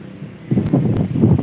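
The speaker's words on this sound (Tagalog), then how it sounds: "Dito medyo malakas ang hangin, no?" Strong seaside wind roars and buffets past big trees, thick and close in the microphone, swelling through a short stretch.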